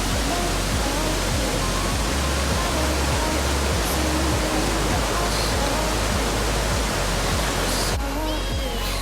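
Dangari waterfall, surrounded on all sides by hills, roars as a steady, loud broadband wash of falling water that holds constant throughout.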